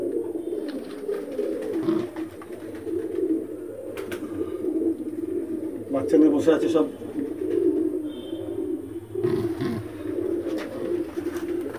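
Pulsar breed Madrasi pigeons nesting with their chicks coo softly and repeatedly, close by, beneath someone talking throughout.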